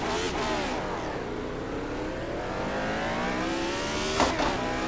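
A Formula 1 car engine climbs and falls in pitch as it revs through the gears at Goodwood, a loud, high whine with brief surges near the end.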